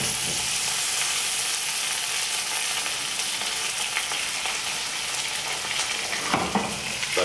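Zander fillet frying skin-side down in butter, giving a dense, even, close sizzle that stays constant with only small crackles and one brief stir near the end.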